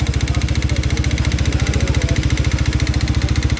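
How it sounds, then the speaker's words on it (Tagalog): A motorcycle engine with piston knocking idles close by with a fast, even, metallic ticking knock repeating steadily throughout. "Ganyan ang tunog ng ano guys, ng piston knocking."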